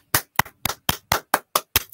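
A single pair of hands claps eight times in an even, brisk rhythm, each clap sharp and close, with no voices around them.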